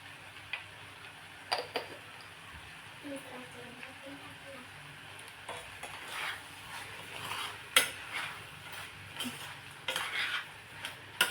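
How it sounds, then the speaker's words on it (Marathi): A spoon scrapes and clinks in a pot while masala rice is dry-roasted, with intermittent metallic taps and stirs and faint sizzling, under a voice speaking. "एक दोन ते तीन मिनटं याला असंच कोरडंच परतून द्यायचं आहे"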